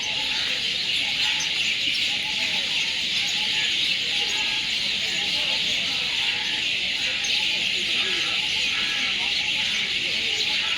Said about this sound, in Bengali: পাখির আওয়াজ শোনাবার জন্য এইটা দেখাচ্ছি